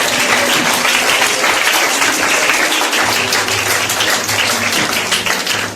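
A church congregation stands and applauds Jesus during a service, a loud, dense, continuous wash of clapping from many hands with a low sustained organ or keyboard tone entering midway.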